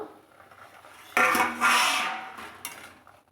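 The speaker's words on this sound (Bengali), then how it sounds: "এবার আমি ঢাকনাটা খুলে নেব" A metal lid is lifted off a cooking pot of lentil dumpling and potato curry, giving a sharp clatter and a brief scrape, followed by fainter knocks as it is set aside.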